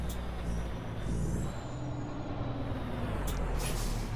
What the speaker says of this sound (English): Set your trailer brakes to do a tug test to make sure that you're not going to unhook from the kingpin